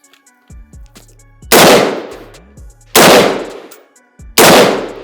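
Three loud gunshots ring out about a second and a half apart during weapons training, each with a sharp crack and a short echoing tail, with quiet clicks between.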